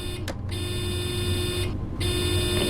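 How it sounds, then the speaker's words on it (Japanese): A harsh, loud electronic warning buzzer sounds continuously in a train cab in the Train Sim World 3 game, cutting out briefly twice before resuming, with no talking. "えらいブザーが鳴り響いてますね。"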